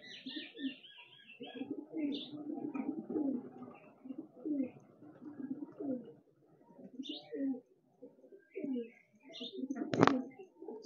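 Pigeons in a home zoo cooing, soft repeated low throaty coos in several bouts with gaps between, nearby, a few faint chirps and a sharp knock near the end.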